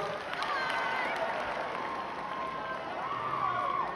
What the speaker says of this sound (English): Why don't we give a round of applause to Mr. Pooh?